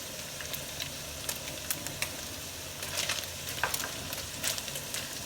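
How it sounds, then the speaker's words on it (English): Beef and onions fry in a pot, a soft continuous sizzle with scattered crackles and light stirring clicks, fairly quiet and without talk. "Now that the beef has started to brown up and really cook, it's time to add the onions."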